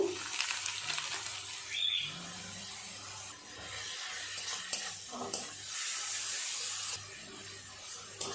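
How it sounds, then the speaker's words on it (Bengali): Tomato and spice masala being sautéed for a sharpunti fish curry sizzles steadily in a pan, with intermittent scraping stirs over a low background hum. "টমেটো ভালোভাবে কষিয়ে নেব"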